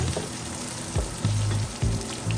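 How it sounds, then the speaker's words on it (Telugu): Ingredients for jackfruit biryani fry in a pan, a constant sizzle broken by a few louder bursts and stirring scrapes, with no talking. "వీటిని కొద్దిగా వేయించుకోవాలి."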